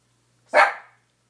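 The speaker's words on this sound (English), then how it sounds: "He barks at everything." A single sharp bark from a tiny five-pound dog, loud and close, rising quickly and trailing off within half a second against an otherwise quiet background.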